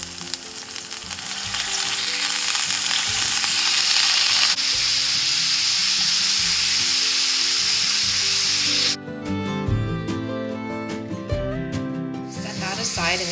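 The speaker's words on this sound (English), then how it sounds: "now I'm going to cook it, breaking it up until it's all cooked through and nicely browned" Ground beef browns in a cast iron skillet with olive oil for a zucchini lasagna, a loud, continuous close sizzle that cuts off abruptly partway through, giving way to a quieter, more tonal stretch.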